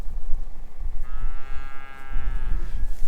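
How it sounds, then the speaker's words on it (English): A cow in a pasture gives one long, drawn-out moo nearby, rising out of gusty wind noise that buffets the microphone throughout. "We're now down with the other bunch of cows."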